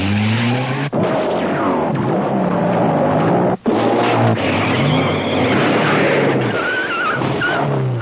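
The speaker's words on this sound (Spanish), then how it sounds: "un protagonista que va en una moto y pasa por encima de un coche con la moto y lo salta entero" A motorcycle engine revs loudly as the bike jumps over a car in the Mazinger Z anime, a continuous roaring, whining drone with sweeping pitch changes and two brief cuts.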